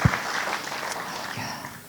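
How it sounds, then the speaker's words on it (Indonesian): A church congregation at a New Year's service claps together, a dense wash of applause sustained for about two seconds before easing off. "Kita beri tepuk tangan buat Tuhan Yesus."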